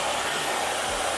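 Hair dryer blowing steadily on high power while drying highly textured hair, a loud, continuous broadband whoosh with no talking.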